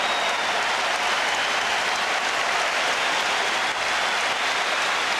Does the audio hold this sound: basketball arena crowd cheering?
yes